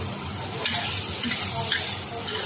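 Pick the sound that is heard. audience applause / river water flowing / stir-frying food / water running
stir-frying food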